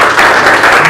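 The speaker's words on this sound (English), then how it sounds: "So give everybody a clap first." Brief, loud burst of audience clapping at a keynote speech during a company forum, dense and continuous across the short moment.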